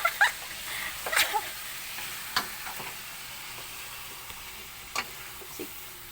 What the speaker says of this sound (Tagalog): Crispy fry.